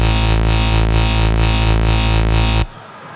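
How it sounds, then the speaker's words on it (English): A sustained synthesizer tone pulses in a steady, rhythmic wobble about twice per second, loud and alone, then cuts off abruptly near the end. "there you have a pretty nice wobble sound"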